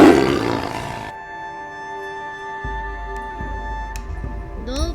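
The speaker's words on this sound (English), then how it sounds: "A tiger." Tiger roaring: one loud, rough roar at the very start that fades within about a second, leaving faint background sound.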